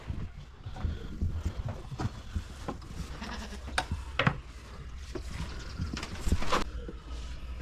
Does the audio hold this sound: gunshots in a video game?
no